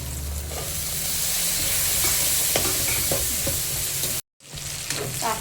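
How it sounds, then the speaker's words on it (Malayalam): Whole shallots sizzle and fry in hot oil for a Kerala-style beef curry, a loud steady crackle with a few stirring scrapes and a brief dropout near the end. "അതിലോട്ട് ഇട്ട് നന്നായി ഇളക്കി ചേർക്കാം"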